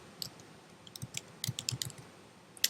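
Clicky keystrokes on a computer keyboard typing a search term, a quick irregular run of close taps with short pauses and a final sharper click.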